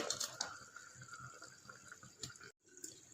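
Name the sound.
curry simmering and bubbling in pot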